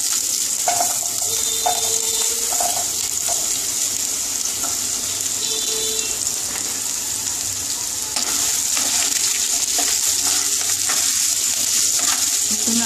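Potato pieces fry in hot oil in a pan as the base of a vegetarian pumpkin curry, giving a loud, continuous sizzle with occasional stirring clinks and splashes close by.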